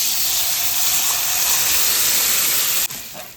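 Chopped tomato goes into hot seasoning for tomato charu, a loud steady hiss of sizzling oil that holds evenly, then drops off sharply near the end to a quieter fizz.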